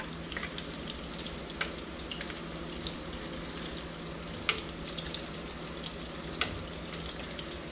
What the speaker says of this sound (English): so we can fry up the rest of the meat